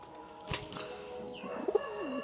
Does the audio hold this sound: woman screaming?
no